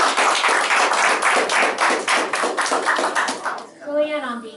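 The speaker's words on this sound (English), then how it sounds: "let's give a big round of applause for Guillan" A crowd gives a round of applause for a student honored with a Rotary Club certificate at a meeting. The dense clapping runs for several seconds, then fades as a voice begins speaking.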